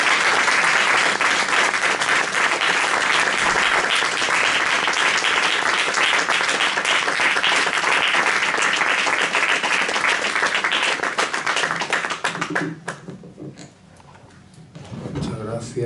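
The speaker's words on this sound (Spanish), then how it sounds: "Vamos a tributar un aplauso a Francisco Zamora Lobos, por favor." An audience at a book presentation in Madrid applauds in a long, dense burst of clapping that fades out near the end, leaving a few scattered claps and voices.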